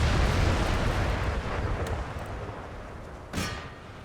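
Cannons firing round shot in Empire Total War, a deep rumbling boom rolling through the first seconds and then a sharper blast near the end, over steady battlefield noise.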